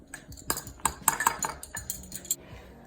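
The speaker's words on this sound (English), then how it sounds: "Level tablespoon of cocoa powder goes in as well." A metal spoon clinks and scrapes against a mug as a level tablespoon of cocoa powder goes in for an eggless chocolate mug cake. Several bright, close taps come in a quick cluster, then softer scraping, with no talk.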